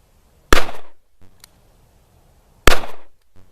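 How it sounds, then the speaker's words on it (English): Two loud, sharp gunshots from a Smith & Wesson Model 637 .38 revolver fired single action, spaced about two seconds apart, each with a short ringing decay, plus faint clicks of the hammer between. "we're going to be doing our first shoot, single action"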